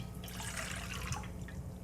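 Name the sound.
warm water being poured in for yeast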